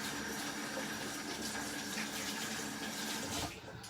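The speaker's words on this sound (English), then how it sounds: "I'm just going to wash my hands." Hands being washed under a running kitchen tap, a steady close rush of water with splashing, continuous until it eases near the end.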